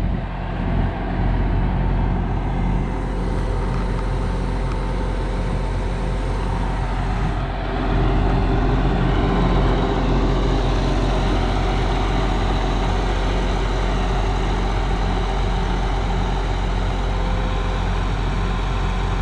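A tractor engine runs steadily up close beside a plough in a dry field, a loud, continuous low diesel rumble with a slight shift partway through and no talking.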